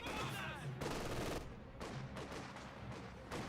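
MG42 machine gun fire in the video game Company of Heroes 2, faint battle sounds with bursts of gunfire mixed into a busy game soundscape, low in level.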